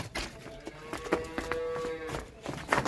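Young two-tooth heifer of full breed, near her first calving, lets out a drawn-out nearby moo, with other cattle and farm sounds around.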